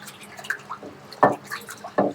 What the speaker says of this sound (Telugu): వాటర్ పెట్టి, మంచినీళ్ళు పెట్టి 3 సార్లు కడుక్కోవాలి.